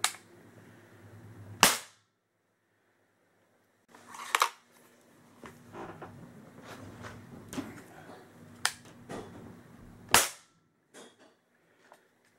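Airgun shots at close range, three sharp loud cracks spaced several seconds apart, with quiet handling clicks and rustling between them and silent gaps.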